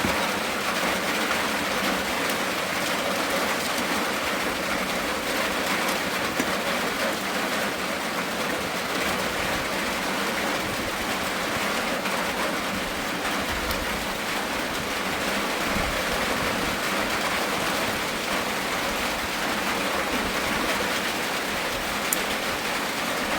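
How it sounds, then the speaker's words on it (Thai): Steady, dense rain hisses and patters on surfaces through the whole stretch, loud and unbroken, with no voices over it. "ยินแต่เสียงฝนว้าพี่น้องเลย"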